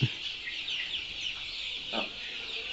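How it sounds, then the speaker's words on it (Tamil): Native country chickens on a poultry farm cluck in short bursts, with a sharp call at the start and another around two seconds, over a steady background of distant bird and farm noise. "பண்ணையில் வளர்த்துற நாட்டுக்கோழி ஒரிஜினல் நாட்டுக்கோழி தான்"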